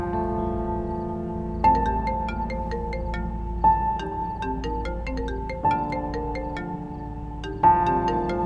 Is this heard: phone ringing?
yes